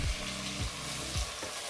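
Tomato, beans, carrot and knol-khol sizzle with salt in a pressure cooker for vegetable pulao, with a steady fry hiss broken by about three rhythmic stirring scrapes.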